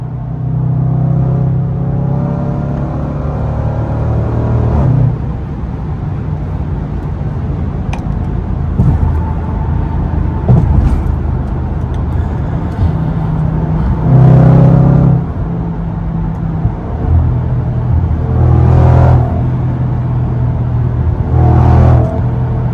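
Range Rover SVR engine rumbling and revving in light traffic, heard from inside the cabin, with a steady low drone broken by several surges of acceleration.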